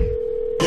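A brief steady electronic phone tone sounds for about half a second, then a short burst of louder, noisier sound.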